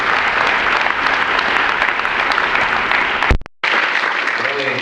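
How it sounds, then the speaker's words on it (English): Audience at an athletic hall of honor induction dinner breaks into loud, dense applause that fills the room, broken by a brief dropout near the end before resuming. "I think they deserve a round of applause."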